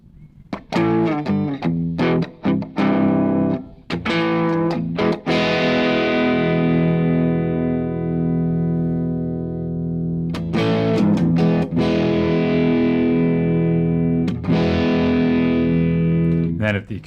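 A guitar through a Strymon Iridium amp pedal, bass turned fully down, rings out in strummed chords with a thin, mid-heavy tone; sharp attacks give way to long sustained decays, loud and close.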